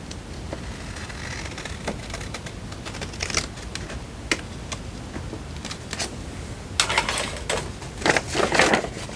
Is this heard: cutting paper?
yes